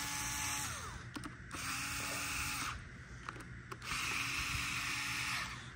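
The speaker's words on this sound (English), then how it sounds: "So in order to install that, we're gonna unscrew these guys here." A powered driver whirs as it backs screws out of an Orange Vise. Close, steady motor whine comes in three bursts separated by short pauses, with no talking.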